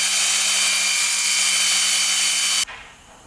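A power tool fitted with plastic brushes scours an engine part from a Kubota diesel UTV, a loud steady high-pitched whirring grind that runs continuously and then cuts off abruptly near the end, leaving only faint room noise.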